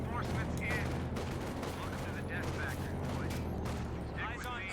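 Artillery fire in the strategy game Company of Heroes rumbles as a dense, continuous barrage of booms and crackling impacts, loud and sustained with no voices over it.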